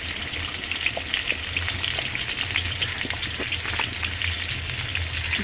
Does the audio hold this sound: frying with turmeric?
yes